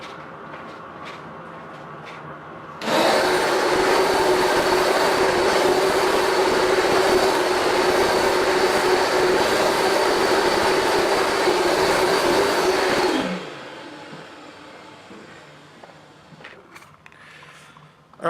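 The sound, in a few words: carpet cleaner running, Rug Doctor Mighty Pro X3 or Bissell DeepClean ProHeat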